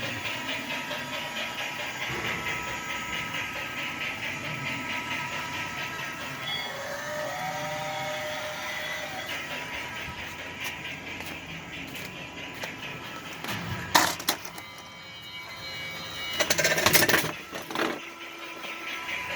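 A Lionel toy train runs around a home layout with a steady faint rumbling whir and rail clatter, broken later by a few sharp knocks and handling noises close by.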